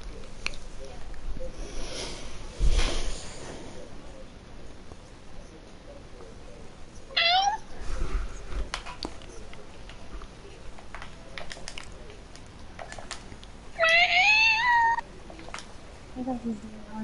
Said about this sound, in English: My cat's just going weird.